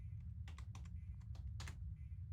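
A computer keyboard being tested key by key in the game Threshold, with a handful of crisp, separate clicks in small clusters over a steady low hum.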